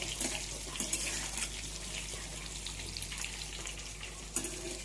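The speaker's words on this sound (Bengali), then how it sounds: "দেখতে পাচ্ছ বন্ধুরা, আজকে আমাদের এই বড়াগুলো কি সুন্দর ভাজা হচ্ছে" Bora fritters frying in a pan of oil, a steady close hiss and crackle running throughout with occasional louder pops.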